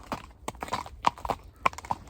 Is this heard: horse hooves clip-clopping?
yes